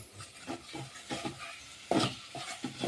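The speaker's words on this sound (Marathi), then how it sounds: "आता हे तेलात चांगला मसाला भाजून घेते" Spice masala roasting in oil in a pan for puranpoli, with soft stirring scrapes and a low sizzle heard up close, louder knocks of the spoon against the pan near the middle and no talk.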